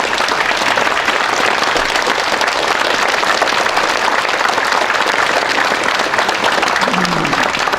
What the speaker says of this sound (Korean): 여러분 박수 보내주십시오.